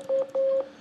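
Two short, pure sine wave tones from an FM8 synth beep in succession, clean and steady, each lasting a fraction of a second.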